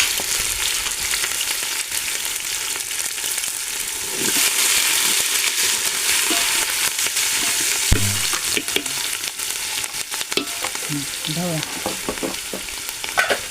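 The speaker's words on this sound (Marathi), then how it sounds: "आपण आता हे ढवळून घेऊ" Continuous sizzling of poha chivda frying in a pan with turmeric, with scraping and rustling as it is stirred, close and fairly loud throughout.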